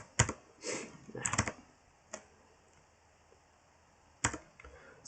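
Computer keyboard being typed on while entering a Linux command for a Webmin setup on Debian 10, short bursts of clacking keystrokes separated by pauses, close and fairly crisp, with a brief spoken word.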